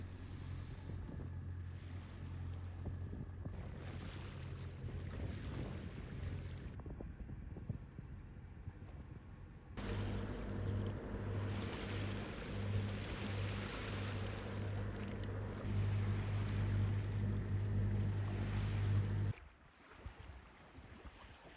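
A sailboat moving through open water on a passage up the coast from Dover to Arbroath, with rushing wind and wash against the hull over a low steady drone, continuous and fairly loud.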